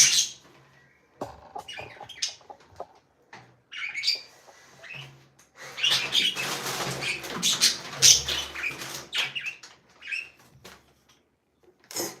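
Small birds chirping and squawking up close in scattered bursts, with rustling and fluttering between calls.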